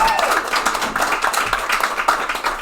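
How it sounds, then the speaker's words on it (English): A modest graduation audience applauds, steady overlapping hand claps at moderate loudness, with a faint voice briefly beneath them. "they should get a round of applause also"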